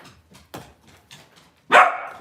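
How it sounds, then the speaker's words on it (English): A dog named Boujii, a bear-like pup, lets out one loud, close bark after several soft, quieter huffs and whimpers. "Boujii, that's a bark."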